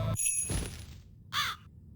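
A crow in the video game The Cat Lady gives two quick, harsh caws, close and clear, with a short silence between them and no talking.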